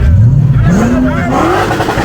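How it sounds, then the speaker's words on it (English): A Toyota Land Cruiser with a Magnuson supercharged V8 revs hard and close, its engine note climbing steadily in pitch over about two seconds. "there are more than one on our streets that have the Magnuson supercharger kit on them, and they sound and move so good"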